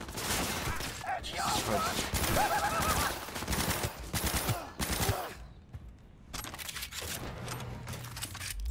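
Rapid gunfire bursts in the video game Cyberpunk 2077, loud and dense for several seconds, then a short pause before more shots, with a man's exclamation briefly over the shooting.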